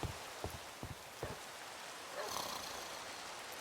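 Rain falling in a Minecraft-style homestead farming game, a soft steady hiss throughout with a brief louder surge midway, heard alongside a few low thumps.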